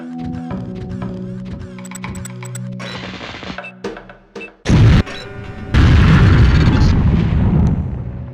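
An explosive lamp detonates in Deus Ex: The Conspiracy, a demolitions-training video game level: a sudden loud boom bursts in over the game's music, followed by a sustained roaring, crackling blast that fills the rest of the moment.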